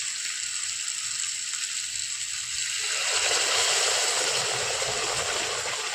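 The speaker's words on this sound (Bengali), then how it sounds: "এবার আমি গরম জল ঢেলে দেব।" Hot water pours steadily into a cooking pot with a continuous rushing, splashing hiss that swells louder and fuller halfway through as the stream deepens.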